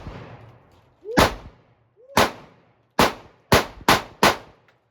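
Six sharp pistol shots from a Sig Sauer P365 or Springfield Hellcat, two spaced a second apart and then four in quicker succession, each a loud close crack with a short ringing tail.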